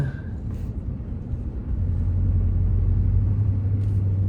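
A tractor plowing snow on a road in the Hudson Valley rumbles with a low, steady engine drone that grows louder and settles into a constant hum, close by.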